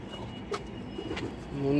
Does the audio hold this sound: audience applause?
no